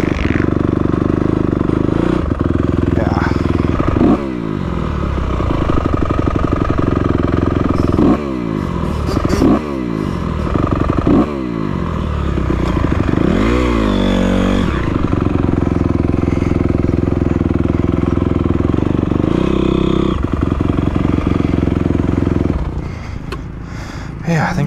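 A motorcycle fitted with a Rekluse clutch runs and revs during test and tune, with repeated rising and falling engine bursts, clattering mechanical noise and voices in the background.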